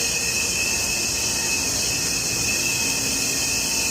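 Continuous loud industrial machine drone inside a Styrofoam manufacturing plant in Vancouver, Canada, as raw material is cooked in the machine's combustion chamber, with a steady high whine and broadband roar throughout, no talk.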